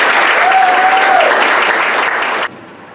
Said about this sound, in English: please give Mark a huge round of applause.